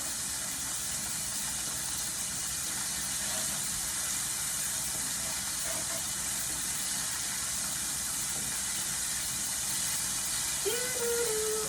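Shrimp and garlic fry in a pan for spaghetti Roma style, giving a steady, even sizzle and hiss that runs unbroken and fairly close from start to finish.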